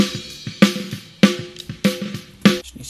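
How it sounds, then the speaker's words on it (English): Isolated snare drum track from a mix session, sounding as sharp, punchy hits in a steady backbeat pattern, about five strikes in under three seconds, each with a bright crack and short decay, alone without voices. "So the snare track sounds like this."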